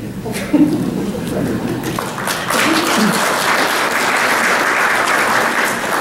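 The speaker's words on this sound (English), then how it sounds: "give them all a round of applause." Audience at a 2014 Osage candidate forum breaking into loud, sustained applause that swells and holds steady, with a voice briefly heard at the start.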